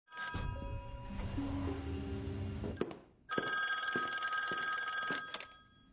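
A telephone rings twice in separate bursts: first a ringing tone layered over a low rumbling background, then a brighter, sharper electronic ring that stops abruptly, both loud and close.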